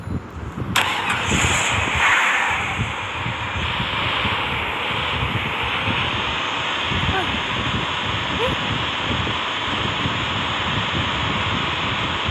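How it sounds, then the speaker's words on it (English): A monster truck engine in the mobile battle-royale game Free Fire starts with a sharp crank, then settles into a loud, continuous rumbling roar that holds steady for several seconds. "Where's my monster truck?"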